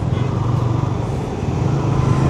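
A motorbike engine drones steadily while riding along a city road in India, a low continuous rumble with wind noise and no pauses throughout.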